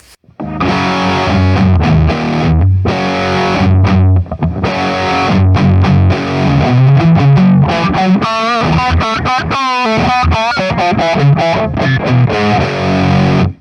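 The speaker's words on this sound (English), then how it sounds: "A very fuzzy sound on the lower strings." Heavily fuzzed, distorted electric guitar riffs on low strings through Overloud TH-U, loud and thick, with chugging rhythm and a brief melodic run near the end; no voices.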